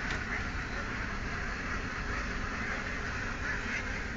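Dense, noisy outdoor clamor with what sounds like many ducks quacking together, steady and close throughout, without clear speech.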